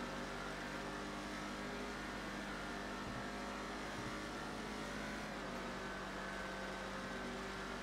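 An Imponte Ruiner ZZ-8 muscle car drives in GTA 5, its engine giving a steady, continuous drone at a constant loud level with no clear revs or gear changes, and no talking over it.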